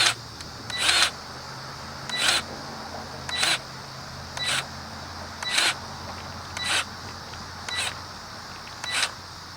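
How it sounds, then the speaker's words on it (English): A hand grease gun pumps grease into a trailer wheel hub in slow, regular strokes, each one a short hissing squirt, about eight evenly spaced bursts over a low background hum. "once you start pumping, slowly pump and spin the tire as you do so."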